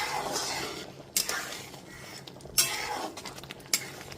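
A spoon scrapes and stirs thick arhar dal in a pot after boiling on high flame, with soft swishing and three sharp metallic clinks against the rim.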